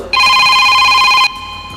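A telephone rings for an incoming viewer call during a studio talk show, giving one loud, sustained electronic ring burst of about a second with a bright buzzing trill, then cutting off abruptly to quiet room tone.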